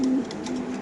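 A black BRPFC racer pigeon gives a short, close coo lasting under a second, a soft low throaty note with no voices.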